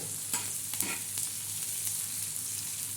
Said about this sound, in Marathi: आता मस्तपैकी आपला कांदा भाजत आहे